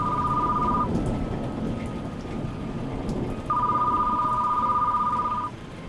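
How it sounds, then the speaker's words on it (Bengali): Heavy rain pours steadily through the whole stretch with low rumbling thunder beneath, while a ringing phone tone sounds in two bursts over the storm. "বাইরে ঝমঝমিয়ে বৃষ্টি হচ্ছে, সঙ্গে ততোধিক বাজ পড়ছে।"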